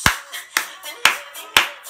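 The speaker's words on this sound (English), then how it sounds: "Clapping like this." Four sharp, evenly spaced hand claps, each followed by a softer echoing clap, form a steady beat of someone clapping along to a song during a music lesson demonstration.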